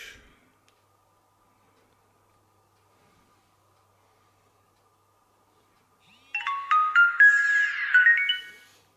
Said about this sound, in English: Switching on the watch.